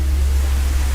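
Sudden rain in the Narcissu visual novel game falls as a steady, dense hiss with a deep low rumble underneath, loud and unbroken for a brief moment, with no voices.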